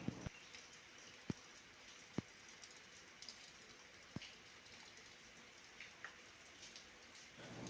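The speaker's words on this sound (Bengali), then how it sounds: "বৃষ্টি থামলো না এখনও।" Rain falls steadily outside a window on a wet day, making an even, soft hiss. Occasional sharp drip clicks land close by at irregular intervals.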